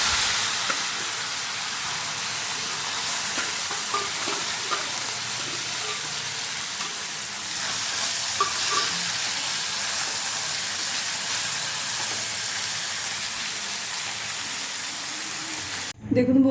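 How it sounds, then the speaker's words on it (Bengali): Small fish fry in hot oil in a kadai, giving a loud, continuous, even hiss and sizzle that lasts throughout and cuts off abruptly near the end. "এবার একইভাবে আমি সবকটা মাছ ভেজে নেব।"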